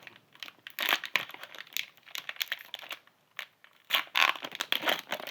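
Hands tearing open the foil wrapper of a Pokémon TCG booster pack, Surging Sparks set: close, loud crinkling and ripping in bursts, with a short pause before a final sharp tear and no talking.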